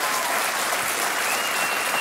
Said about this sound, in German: Sie dürfen gern für sich selber klatschen.